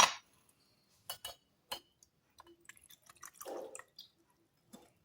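Water poured through a sieve to filter out leaves, heard as scattered drips, clinks and a short trickling splash, close and quiet, with silent pauses between the sounds.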